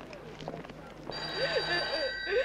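A telephone starts ringing about a second in, a steady electronic trill that holds for the rest of the moment, set in a crime film scene, with quieter background sound underneath.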